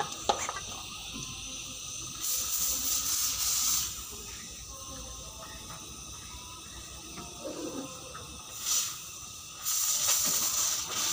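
A disinfectant fogging sprayer hisses steadily in a goat barn, with loud broadband bursts of spray rising and falling over a continuous background hiss.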